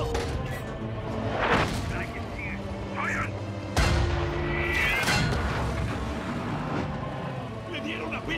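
Heavy tank cannon blasts from a Tiger and Shermans boom out amid the chaos of battle, with engine rumble, shouting Spanish voices and crashing debris filling the gaps between shots.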